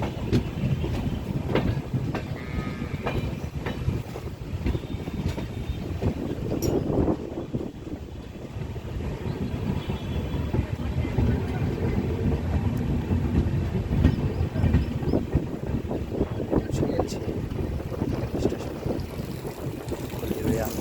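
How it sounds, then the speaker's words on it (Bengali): Darjeeling Mail passenger train pulling into Haldibari international railway station, a steady low rumble of rolling wagons with faint clatter and scattered metallic squeals, continuous and fairly close throughout, with voices in the background. "দর্শক এই মুহূর্তে প্রবেশ করছে হলদিবাড়ি স্টেশনে ঐতিহ্যবাহী দার্জিলিং মেল"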